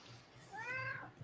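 A cat gives a single rising-and-falling meow, fairly faint and slightly distant, over a quiet room background.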